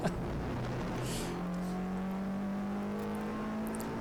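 On-board sound of a Peugeot 106 lapping Goodwood Motor Circuit, the engine note dropping as the driver changes into third gear, then holding a steady drone with tyre and wind noise.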